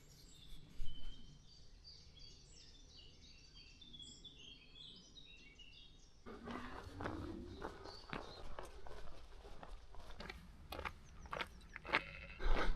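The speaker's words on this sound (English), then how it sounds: "Listen to all the birds." Birdsong in the Peak District countryside near Hartington: several small birds chirp and trill at a moderate distance, clear for the first few seconds, then partly covered by close footsteps crunching along a path.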